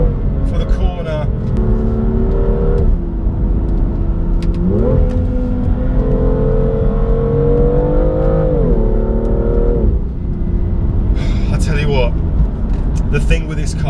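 A 2017 BMW M2 accelerating hard on a road, its exhaust note droning loud and close with engine pitch climbing through gears and a brief lift around a corner.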